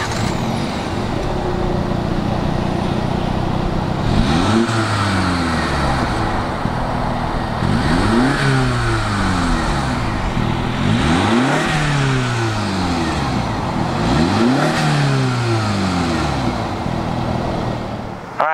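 A 2019 Mini Cooper S Ice Blue Edition engine runs close by, revving repeatedly in rising and falling sweeps over a steady idle rumble, with no talk.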